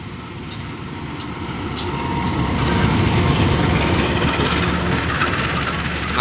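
The Garut–Cibatuan local train passes close by at Kiaracondong station, a loud rumbling roll of wheels on rails building and holding steady, with a few sharp air-brake hisses early on.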